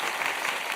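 Brief burst of dense clapping from a morning-show studio audience, a steady wash of applause with no break.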